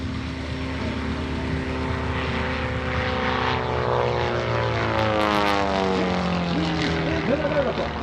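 A Pitts aerobatic propeller airplane flies at an airshow, its engine droning continuously and shifting pitch as it climbs and maneuvers at a distance, while an announcer talks over the public address throughout.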